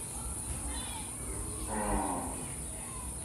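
A Gir heifer lets out one drawn-out, low moo midway through, heard from a moderate distance over a steady background hiss, with faint voices in the surroundings.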